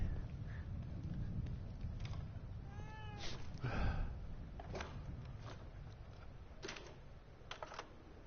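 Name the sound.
cat meowing in the video game The Evil Within 2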